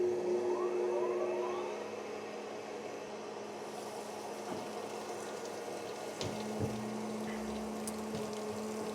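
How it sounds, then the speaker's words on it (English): A grinder on a machining job whines with a rising tone for the first few seconds, then settles into a steady mechanical hum with a few faint knocks, heard alone without talking. "Let's turn the grinder on."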